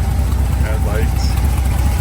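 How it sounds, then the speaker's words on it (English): A 1975 Ford F250 engine idles with a steady, low rumble and a slight exhaust leak, close and continuous throughout. "A little bit of an exhaust leak maybe over on this side."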